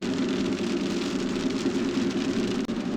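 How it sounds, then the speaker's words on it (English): Steady rain drums on an RV driving the road into Alaska, a dense, constant wash of drops with a low road rumble beneath, close and fairly loud, with no voices. "We're back in the rain."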